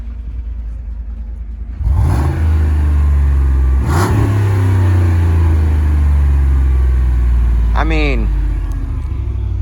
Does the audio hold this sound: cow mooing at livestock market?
no